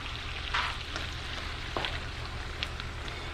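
Wild oyster and chanterelle mushrooms cook down in a pan with a splash of white wine, giving a steady close sizzle with a few brief crackles and stirring scrapes.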